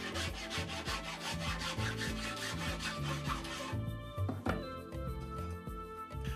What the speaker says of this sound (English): I've now moved from the rasp over to the file, so I'm filing out those harsher marks that the rasp makes